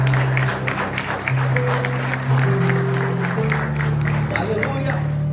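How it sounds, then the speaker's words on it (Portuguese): A large church congregation claps continuously and enthusiastically while music plays underneath, the applause steady throughout. "Você pode aplaudir nesta noite a Deus."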